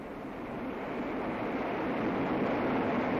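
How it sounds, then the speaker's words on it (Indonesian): A waterfall about 20 meters high pours into a deep pool, making a continuous broad rushing roar that builds slightly and never lets up. "Oh, and there's a waterfall too."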